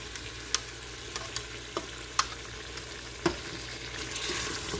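Yogurt goes into a pan of white karahi, setting off a soft, steady sizzle and frying hiss with occasional sharper pops and stirring clicks, close and fairly quiet.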